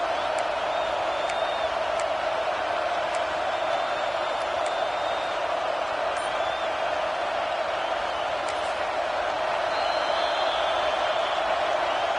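A large American football stadium crowd roars on third down in a steady, dense wash of noise, with occasional whistles and shouts rising above the constant din.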